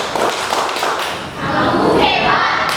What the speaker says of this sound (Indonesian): Tepuk hebat untuk kelompok 2.